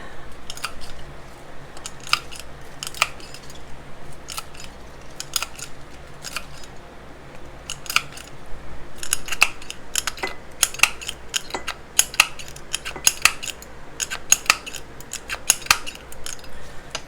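Wild lettuce stems are cut up with scissors or a blade, a run of crisp snips and crunches that come close and moderately loud, in irregular bursts that grow denser toward the end, with no talking.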